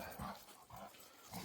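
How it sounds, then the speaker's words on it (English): Two dogs barking and whimpering indoors near a workshop, heard as faint, muffled yelps and whines repeating in short bursts. "The noise you hear are my two dogs."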